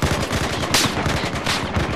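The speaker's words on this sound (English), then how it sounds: "50 cal on the hill" Heavy .50 caliber machine gun fire in Battlefield 4 on the Golmud Railway map, loud rapid bursts of repeated shots with a sharp blast partway through, no talk.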